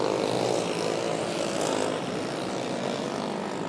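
A racing motorcycle engine at a dirt-track race in the AJC Mid America Series, droning loudly and steadily as it accelerates back on the throttle, with a broad buzzing roar and a slight dip in level partway through.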